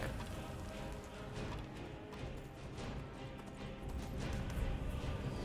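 Horse hooves clip-clop in the video game Skyrim, a close, busy run of thuds and knocks over a steady game background, growing slightly louder toward the end.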